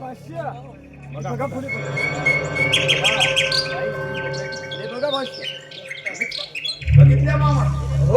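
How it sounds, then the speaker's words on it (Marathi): Birds chirp and tweet in a flower garden, bright calls repeating over several seconds beneath voices in conversation. "आणि तो पक्ष्यांचा चिवचिवा तो बघा."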